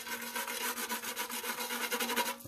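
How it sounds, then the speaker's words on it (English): A small brush sweeps dust off a car ECU circuit board with a protective urethane coating, producing quick, faint, rhythmic scratchy strokes close by. "brush that off real quick."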